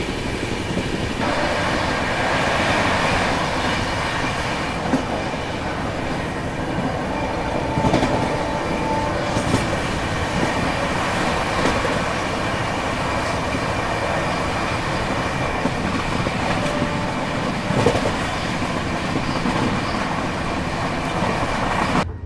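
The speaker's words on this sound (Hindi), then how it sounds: "अभी तो बस शुरुआत हुई है और अब ट्रेन ने रफ्तार पकड़ना शुरू किया है।" Passenger train running at about 110 km/h, a steady loud rumble of wheels and carriage noise heard from inside, with faint rhythmic clacking and occasional squeals, continuous throughout.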